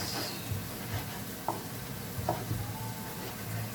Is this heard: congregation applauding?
no